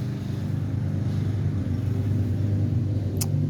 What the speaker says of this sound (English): I have traffic on Powhatan Avenue, and I believe one of my neighbors is cutting grass.